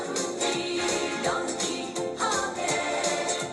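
Loud, busy in-store music playing inside a Don Quijote discount shop in Tokyo, a dense bright pop track running continuously with no talking.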